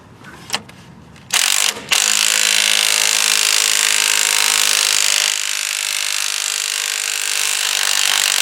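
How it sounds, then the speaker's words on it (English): An impact gun working to pull a harmonic balancer off a car engine: a few short sharp bursts, then a long unbroken run of loud, close rattling hammering that holds for several seconds. "What we're doing now is using the impact gun to try to pull it off."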